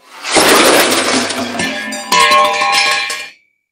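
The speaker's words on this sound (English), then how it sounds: "Some sort of metal collapsing." Foley sound effect of metal crashing and collapsing for an audio drama, with clanging, ringing impacts, a loud close jumble of clanks and rattles that settles after a few seconds.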